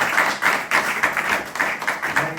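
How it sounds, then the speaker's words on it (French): A congregation claps in a quick, even rhythm during a Sunday church service, rhythmic applause filling the space at moderate volume with no talking over it. "Est-ce que nous pouvons encore applaudir pour le Seigneur Jésus?"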